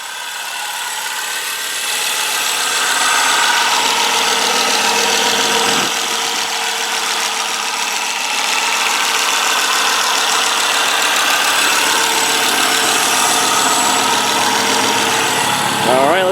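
A 2000 Volvo S70 five-cylinder engine idles steadily throughout, a continuous mid-range hum with a faint irregular knock, close and loud with no one talking over it.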